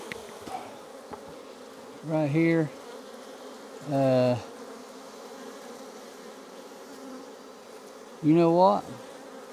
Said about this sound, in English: let me shake some of these bees down.